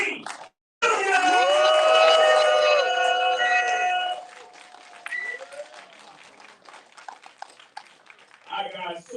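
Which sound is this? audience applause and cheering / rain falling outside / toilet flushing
audience applause and cheering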